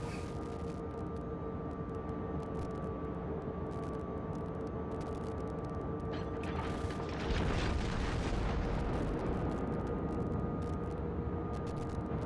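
A naval gun salvo fires in World of Warships with a sudden deep blast that swells into a broad, roaring rumble. A steady engine-like drone runs underneath throughout.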